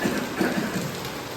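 Steady rain hisses loudly and continuously for a brief moment, a dense close wash of drops on a surface.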